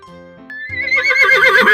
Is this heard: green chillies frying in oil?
no